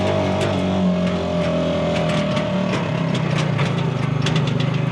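A 2025 Bighorn 450 Pro Max side-by-side UTV runs in 2-wheel drive on blacktop, its engine droning loud and close at a steady pitch with rough mechanical buzz and light ticking throughout.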